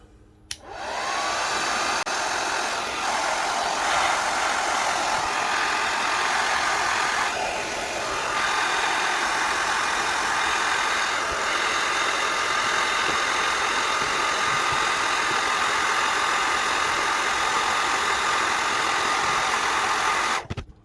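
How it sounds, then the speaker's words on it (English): A hair dryer set to low and warm runs continuously while heating the legs of a Marvel Legends action figure, a loud, steady blowing whir that switches on at the start and cuts off at the end, with no talking. "My hair dryer's got settings hot, warm, high, off, low."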